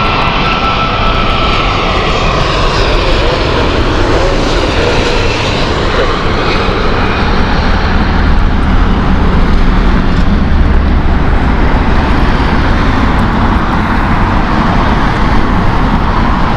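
A Cathay Pacific Airbus A350-1000 airliner at Heathrow Airport, its engines giving a loud, steady, broad roar that holds unbroken for the whole stretch, with no voices over it.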